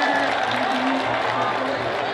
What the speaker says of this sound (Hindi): तो पहले तो आप एक ज़ोरदार ताली बजाइए